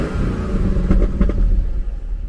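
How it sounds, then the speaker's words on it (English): A 2016 Holden Commodore engine is blipped a couple of times from idle, short close revs rising and falling over a steady rumble. "If you give this thing a rev, sounds even better."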